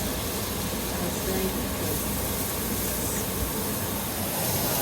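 Onions sauté in a hot pan with a loud, continuous hiss and sizzle, while a person talks over the cooking.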